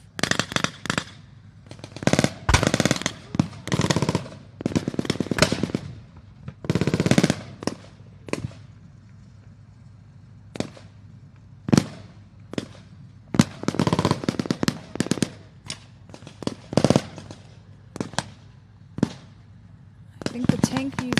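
Bursts of machine gun fire at a tank museum display weekend, rapid loud rattling volleys repeating in clusters with short gaps, with people talking in between.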